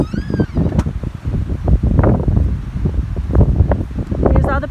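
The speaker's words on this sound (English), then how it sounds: "It's a little windy today, so forgive the noise." Gusty wind buffets the microphone outdoors with uneven rumbling and rustling, loud and close throughout, with faint bits of other sound mixed in.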